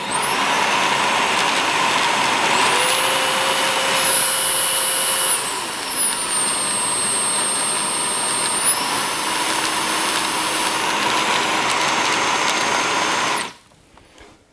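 Jimmy JV85 Pro robot vacuum cleaner runs through three power modes, giving a steady high-pitched whine with a loud motor hum that steps up and down in pitch between modes, then cuts off near the end.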